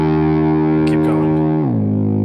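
An electric guitar run through a pitch-shifting effect unit, a sustained distorted tone that drops sharply in pitch partway through to a deep, growling note two octaves down, loud and alone.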